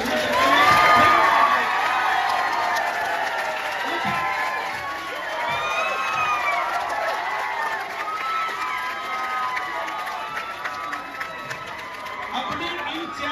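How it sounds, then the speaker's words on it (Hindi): A rally crowd at a political gathering in Assandh stands and cheers loudly with shouts and whoops, a dense roar of voices that stays strong throughout, with some clapping mixed in. "एक बार खड़े होकर के हाथ ऊपर करके जोरदार तालियों से इसका समर्थन करें"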